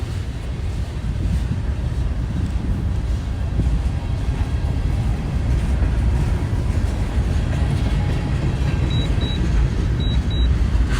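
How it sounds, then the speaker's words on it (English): CSX freight train on the main line of the Henderson Subdivision near Slaughters, Kentucky, a continuous loud rumble and rolling clatter of wagons that holds steady throughout, with faint high squeals near the end. "Now we got 648 approaching the north end of the Slaughter siding on the main as he heads north on the Henderson Subdivision."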